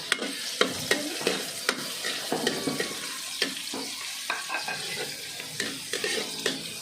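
Pork leg (pata) sautéing in a pan, with a steady sizzle broken by repeated sharp scrapes and clinks of a utensil stirring against the metal, close and fairly quiet, no voices.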